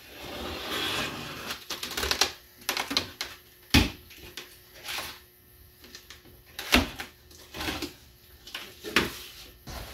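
Close, clattering handling of a shipping box for a Prime Weld TIG 225x AC/DC welder during unboxing. Irregular knocks, thumps and cardboard scrapes come in uneven bursts, with one sharp bang and no talking.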